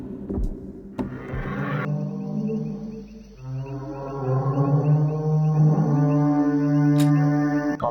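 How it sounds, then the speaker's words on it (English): In the video game Dinosaur World, dinosaurs let out deep, drawn-out honking calls that slide and overlap in long, loud sustained tones, with a few sharp clicks at the start and no talking. "these dinos sound well gassy"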